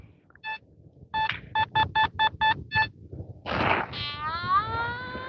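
A metal detector gives a series of short electronic beeps in a steady rhythm, followed by a rising, warbling tone, close and clear over faint background noise, during a winter night coin hunt.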